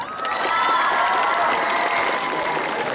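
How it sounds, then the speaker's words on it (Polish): Large outdoor crowd in the main market square of Zamość applauding and cheering at a summer concert, a dense steady roar of clapping and voices sustained throughout. "Brawa dla Was!"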